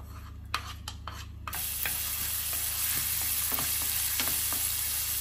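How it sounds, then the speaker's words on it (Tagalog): Ginger hits hot olive or cooking oil in a frying pan and a loud, steady sizzle takes over after a few quiet clicks, with occasional stirring scrapes over a low background hum. "Maglagay tayo dito ng olive oil or cooking oil dito sa ating frying pan. Una natin ilalagay yung ating ginger."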